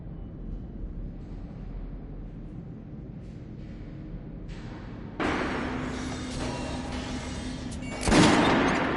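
Gunfire volley in a PS4 shooting game: a sudden loud burst of shots around the midpoint, then a second sharper blast near the end, over a steady rumbling game background.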